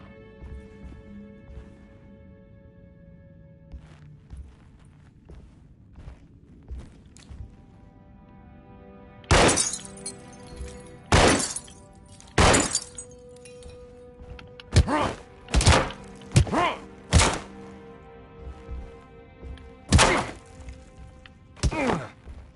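Glass smashed in the video game Alone in the Dark, a series of sharp, loud breaking impacts in irregular bursts over faint background ambience, with no talking.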